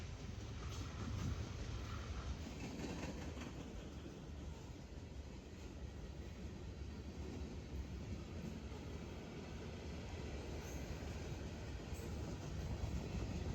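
A long Norfolk Southern freight train with two mid-train ES44AC and AC44 DPU locomotives rolls steadily past at Emory Gap, a continuous broadband rumble and clatter of cars that stays even and fairly distant throughout, with no voices.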